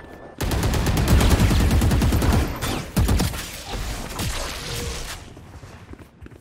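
Gunfire in the Valorant shooter game: a rapid automatic burst of close, loud shots that runs for about two seconds, then a few scattered single shots trailing off into quiet.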